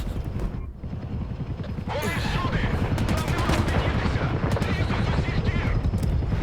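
Gunfire in S.T.A.L.K.E.R. 2, a sustained burst of rapid automatic shots rattling loudly after a short quieter lead-in, with a voice briefly over the noise.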